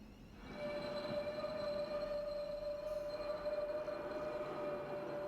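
Squealing train wheels in the Train Sim Classic game on the Southampton to Bournemouth route, a steady high-pitched screech sustained over the rumble of the rolling train, loud and continuous throughout.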